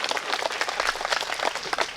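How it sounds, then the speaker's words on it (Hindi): Audience applause at a Hindi comedy poetry gathering (hasya kavi sammelan): a dense, steady wash of many hands clapping together, fairly close and even in loudness throughout. "एक बार तालियां बजाओ"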